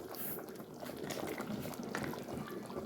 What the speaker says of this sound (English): So we're going to make this simmer down.